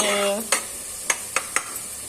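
Mutton curry being stirred and mixed in a pan, a close, soft scraping and sizzle with a few short spoon strokes against the pan, after a brief tonal hum at the start, no voices.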